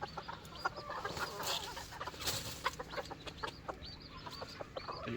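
Several Serama miniature chicken roosters cluck and squawk in a busy, overlapping ruckus, with sharp repeated calls and chatter from a small flock nearby, no talking.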